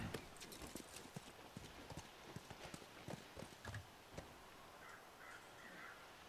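Horse hooves clip-clop steadily in the video game The Last of Us. The quiet, fairly close footfalls come in an irregular rhythm, joined by faint bird calls and light ambient sounds.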